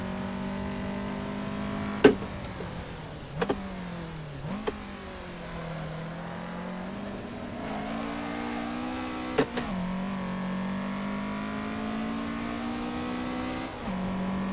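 Toyota AE86 engine revving in the Assetto Corsa racing game, a steady loud drone rising and falling with throttle, punctuated by a few sharp shift blips and short tire-squeal spikes, with no talk.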